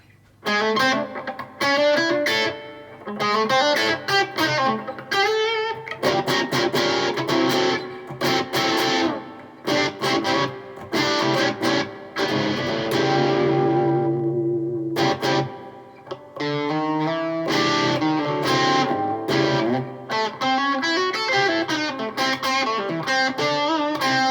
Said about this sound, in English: Just a little bit of reverb.